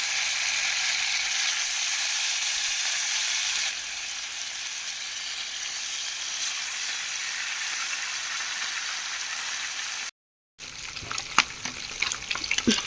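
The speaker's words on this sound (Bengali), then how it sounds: "তেল গরম হয়ে গেছে, এখন আমি একে একে মাছগুলো ভাজার জন্য ছেড়ে দেব" Fish marinated for a coastal-style recipe sizzle in hot oil, a loud steady broadband crackle that continues for several seconds, breaks off briefly, then resumes with sharper pops and spatters.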